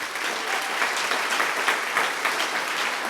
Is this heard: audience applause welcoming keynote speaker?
yes